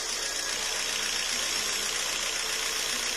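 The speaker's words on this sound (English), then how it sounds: "Jeep Renegade running rough" A Jeep Renegade engine runs rough and misfires, a continuous, fairly close idle hiss and drone with a slightly uneven, knocking texture and no voices.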